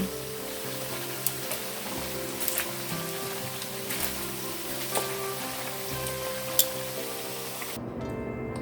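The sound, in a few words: pork griot frying in pan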